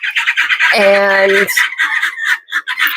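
A young gosling gives a loud, harmonic squawk lasting under a second near the start, close to the mic, with a voice speaking briefly around it.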